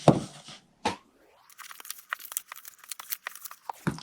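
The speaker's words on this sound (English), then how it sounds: "And then I'm going to fold and burnish." Scored cardstock being folded and burnished: a couple of sharp crisp creases, then a rising scrape followed by a run of rapid, close crinkly rubbing strokes along the fold.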